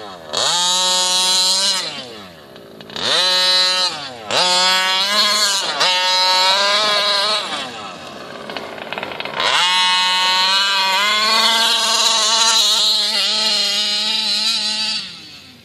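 A small two-stroke motorbike engine fitted with an OBR G320 reed and a Lunatik Rabid expansion pipe screams loud and close, climbing and dropping in pitch through repeated revs and gear pulls, with a short dip before a long high-revving run.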